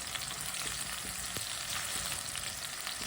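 Chopped green garlic, tomato and green chilli frying together in a pan over medium heat, giving a steady, close sizzle with faint stirring clicks throughout, no voices.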